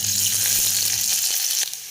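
Green chilli, garlic, ginger and curry leaves fry in hot oil with mustard seeds in a cooker, giving a steady loud sizzle that eases slightly near the end.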